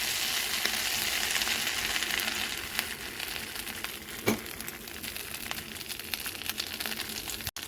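Mustard oil heats in a pan for a pui shak and prawn dish, giving a steady, moderate sizzle and crackle, with one brief clatter partway through.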